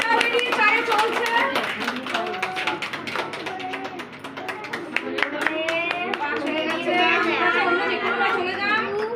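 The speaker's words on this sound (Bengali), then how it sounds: "হাততালি দাও সবাই, হাততালি দাও।" A crowd claps in scattered, overlapping bursts as a game begins, with a lively mix of adult and children's voices chattering loudly throughout.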